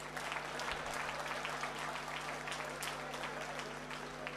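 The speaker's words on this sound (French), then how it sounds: "Applaudissez pour moi." A crowd claps steadily throughout, dense and continuous at a moderate distance, with a faint low electrical hum underneath and no voices over it.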